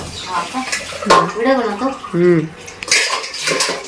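Large metal pots and dishes clatter and scrape while being washed, with bright ringing clanks and some running water, loud and close, broken by brief speech.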